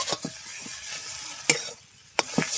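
A potato filling for crispy aloo patties is stirred with Maggi masala in a pan, with a steady low sizzle and several sharp scraping and clacking strokes of the spoon against the pan.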